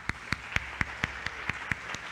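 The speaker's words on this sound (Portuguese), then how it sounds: "Vamos dar uma salva de palmas?" At a church service, a congregation claps in a steady, even rhythm, each clap sharp and regularly spaced at moderate distance, with no talking over it.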